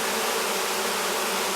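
A honeybee swarm from a foulbrood colony, holding several pounds of bees, gives a dense continuous buzz, loud and close with no breaks.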